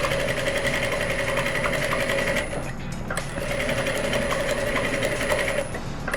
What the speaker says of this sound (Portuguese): Então a gente vai costurando, ó.